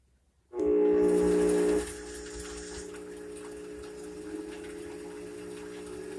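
A treadmill DC motor fitted to a Shopsmith starts abruptly with a loud whine, then eases into a steady, quieter hum at speed. The sound is close and mechanical, with no talk.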